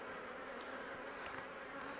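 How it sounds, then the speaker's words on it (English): Honeybees swarm around an opened hive in the open air, a faint, steady buzzing drone with one bee briefly passing closer. "Bees are just everywhere today."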